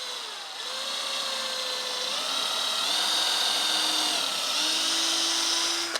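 A power drill bores a pilot hole into wood while a stair gate is fitted, its whining motor running close and loud for several seconds and shifting pitch as the bit bites and the speed changes.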